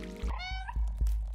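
A single short meow from the cat in the video game Stray, rising then falling, with soft low thuds underneath.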